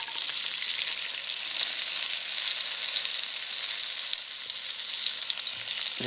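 Cooked potatoes brown in butter in a pan, giving a dense, steady, bright sizzle that stays close and even throughout, with no talking.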